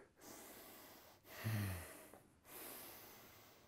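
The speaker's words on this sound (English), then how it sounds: "Nose breathing, nasal, nasal, nasal." Breathing through the nose during a full-body workout: a few close, forceful nasal breaths, with one stronger snort-like exhale in the middle and quiet pauses between.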